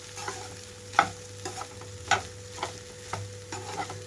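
Egg and rice for egg fried rice are stirred in a hot pan, with soft sizzling beneath a series of distinct scraping stir strokes at an uneven, roughly half-second rhythm.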